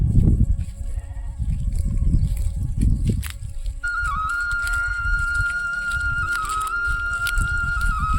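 A shepherd's flock of sheep and goats bleats in a Himalayan meadow, with several overlapping calls at varying distances; a steady whistle-like tone runs through the later part.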